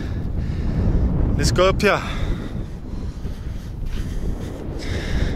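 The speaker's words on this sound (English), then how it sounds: "Super windy." Strong wind gusting against the microphone on an exposed hillside walk in Egypt, a steady low rumble throughout with a person talking briefly over it.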